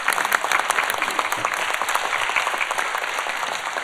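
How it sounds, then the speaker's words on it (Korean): Applause from a church audience rolls on continuously, many hands clapping at once in a full, even roar that holds steady throughout. "예, 우리 한 박수 한번."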